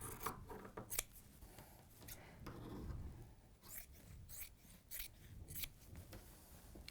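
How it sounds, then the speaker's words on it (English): Scissors snip around the edge of fabric at a Christmas sewing event, a series of quiet, crisp cuts and rustles in an irregular rhythm, close by with no talk. "So I'm going to cut around the outside now."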